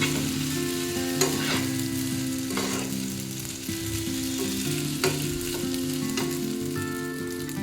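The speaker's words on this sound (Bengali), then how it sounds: "এটা প্রায় ভাজা হয়ে গেছে।" Macaroni pasta frying in a pan at breakfast, a steady close sizzle with scattered scraping stir strokes throughout, no voices.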